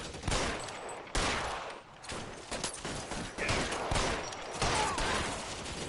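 Gunshots in the 1940s police game L.A. Noire come as a rapid fusillade of sharp, loud cracks in irregular bursts across the whole stretch, with an occasional voice in the background.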